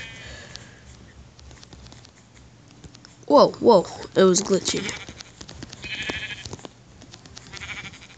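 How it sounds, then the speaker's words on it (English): Sheep in a Minecraft-style survival game in a snow biome: a cluster of bleats in the middle, loud and near, with a person talking in the clip. "Oh, wow, there was a lot of sheep here."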